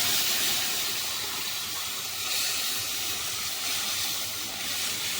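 Boiled masoor dal poured into hot tempering, giving a loud, steady, hissing sizzle that fills the whole stretch with little change, heard close up and alone.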